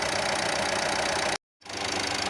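A steady, rumbling Renault Laguna 3 engine idling close by while air is bled from the cooling system, broken by a brief moment of silence before the running resumes.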